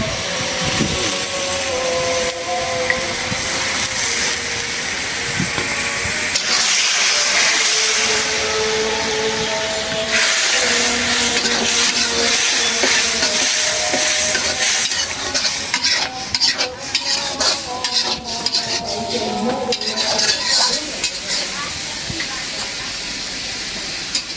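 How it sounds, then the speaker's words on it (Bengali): Dried fish (shutki) sizzling loudly with spices in a pan, stirred continuously with scraping, steady frying hiss throughout and someone speaking now and then. "দিয়ে দিলাম শুটকি মাছ। মশলার সাথে শুটকি মাছগুলো কষানো হয়ে যাবে।"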